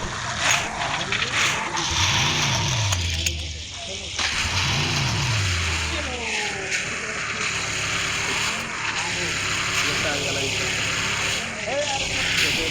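A car in a battle-royale style video game, its engine revving and shifting in rising and falling sweeps, with occasional tire squeals, while players talk over it throughout.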